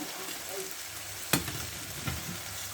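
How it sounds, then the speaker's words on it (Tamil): Lentil vada (paruppu vadai) deep-frying in hot oil, a steady close hiss and crackle with one sharp clink of a utensil partway through and a softer knock later. "இப்போ பார்த்தீங்கன்னா வடை வந்து நல்லா பொரிஞ்சிருச்சு"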